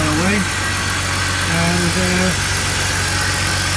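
A BMW E46 330Ci Clubsport engine idles close by with a steady low rumble that holds even throughout, while someone talks briefly over it.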